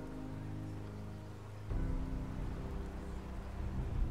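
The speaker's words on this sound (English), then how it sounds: "so it's raining outside." Rain falls outside in New York City, a steady hiss that starts behind a low droning hum and then grows denser and closer after a sudden shift, with no voices.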